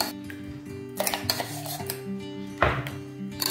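Chutney is scooped from one pot into another, producing a few metallic clanks and scrapes of a spoon against the vessels, close and fairly loud, in short separate bursts with no talking.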